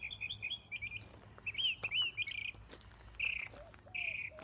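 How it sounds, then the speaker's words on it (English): Birds chirp at a quiet veterans memorial cemetery in Southern Arizona, a lively run of bright, close tweets and trills in short bursts with small gaps, plus a few lower whistled notes near the end. "Can we see the bird?"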